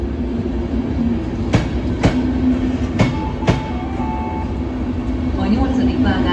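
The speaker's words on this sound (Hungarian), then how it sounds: "A 8. vágányról a szerelvényt kihúzzák." Passenger train of the MÁV-Start Kálmán Imre EuroNight set being pulled out from track 8 at a station: steady low rumble with several sharp clanks and knocks, faint squeals, under a hall-like station ambience.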